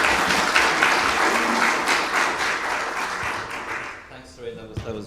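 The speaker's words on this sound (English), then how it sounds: "I'll give you a round of applause." Conference audience applauds in a sustained wash of clapping that gradually fades over several seconds, after which a person begins speaking.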